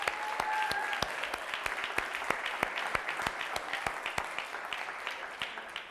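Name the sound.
audience applause at TEDx event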